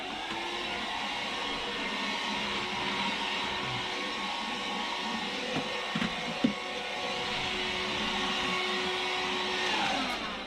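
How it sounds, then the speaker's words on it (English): A vacuum cleaner runs steadily and fairly loudly inside a Stella camper van, a continuous whirring hum with a few small knocks partway through and no talking. "Mama's gonna vacuum,"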